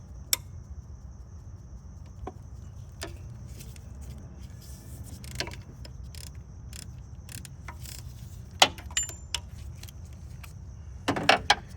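A ratchet works loose an 8mm bolt on a Honda Accord four-cylinder alternator, sparse metallic clicks and ticks scattered over quiet background hum, a few sharper clacks bunched near the end, no talking.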